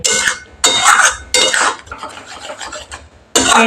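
Spice paste for a Bengali bhola fish curry is stirred and fried hard in a pan: loud, close scraping and clattering of a spoon against metal in repeated bursts, with a steady frying sizzle underneath.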